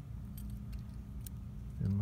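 Ignition keys for a 383 Mopar jangle in short metallic clinks close by, followed by a rising low engine rumble at the very end, with speech heard throughout.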